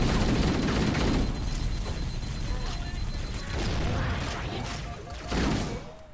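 Gunfire in Halo: Combat Evolved, with bursts of rapid shots and impacts rising and falling over several seconds, heaviest at the start and near the end, mixed with game effects and a voice speaking over it.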